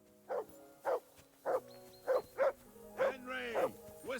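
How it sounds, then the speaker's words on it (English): A dog barks in the medieval role-playing game Kingdom Come: Deliverance II, a series of separate, evenly spaced barks close by, with a voice-like tonal sound rising near the end. "Henry, whistle at that mutt of yours to stop barking."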